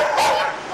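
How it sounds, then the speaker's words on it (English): A pit bull attacks another dog at an animal shelter, producing a brief, loud, close burst of sharp barking and yipping. "We witnessed this pit bull terrorizing a dog during an undercover visit to the shelter in August."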